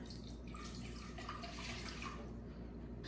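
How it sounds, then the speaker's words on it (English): Water poured from a cup into a cooking pot, a continuous soft splashing and trickling stream that runs steadily for a few seconds at close range, fairly quiet, with no talking. "We're going to pour another cup of water, and we're going to put it in this pot"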